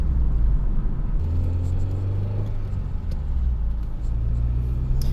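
Idling 1989 Honda Prelude engine with slight valve tapping, a steady close low rumble with a constant hum and faint ticking over it.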